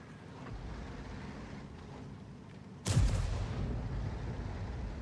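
Object 261 self-propelled artillery fires once in a tank video game: a sudden loud boom lands partway through over steady wind-like ambience, then trails into a rumbling decay.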